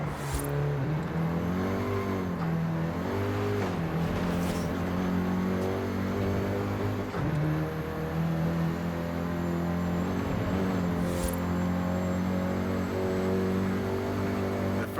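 Volkswagen Golf GTI driven in Forza Horizon 5, a steady low engine drone with tonal harmonics that rise and fall gently as the car accelerates and eases off, under faint game ambience.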